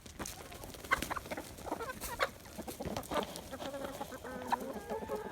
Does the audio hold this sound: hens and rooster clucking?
yes